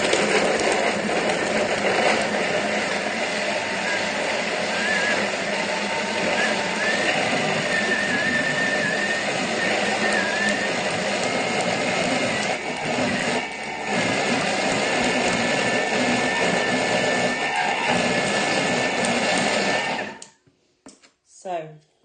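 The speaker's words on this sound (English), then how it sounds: "you can listen to the motor and you kind of will know when it's ready" Thermomix motor blending frozen fruit and yoghurt into ice cream at speed 7, a steady loud whirring grind that holds for about twenty seconds with a brief wobble midway, then cuts off abruptly near the end.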